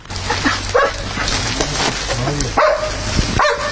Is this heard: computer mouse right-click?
no